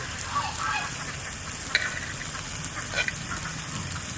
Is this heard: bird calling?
no